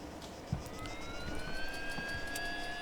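A Pawnee helicopter in Arma 3 flies with a steady engine and rotor drone, layered with rising turbine whines and a thin high tone, moderately loud and continuous throughout.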